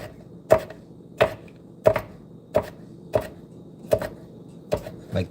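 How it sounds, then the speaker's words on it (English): The heel of a kitchen knife chops garlic on a cutting board in eight steady, evenly spaced knocks, close and crisp against a quiet background. "the real way you should do this is using the heel of the knife to chop."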